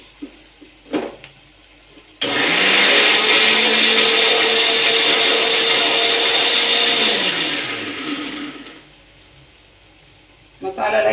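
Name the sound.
mixer grinder grinding masala with oil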